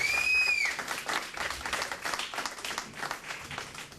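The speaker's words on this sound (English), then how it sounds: "Let's give him a round of applause." Moderate applause at an appreciation and recognition reception, a thin crowd clapping at a fairly low level after a brief high tone at the start.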